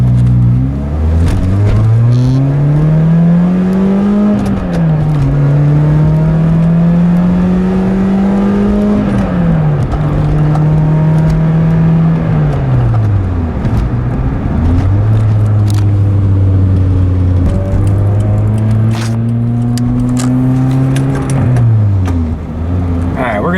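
Car engine with a newly replaced transmission and an 8,200 RPM redline, revving hard and loud as it accelerates through several gears, its pitch climbing and dropping at each shift.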